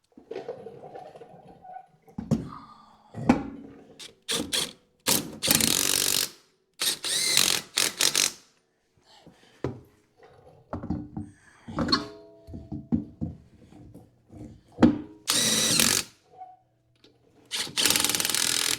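Wheels going back onto a widebody turbo Subaru BRZ as a power tool rattles on the lug nuts in short, loud ratcheting bursts separated by clanks and quiet pauses.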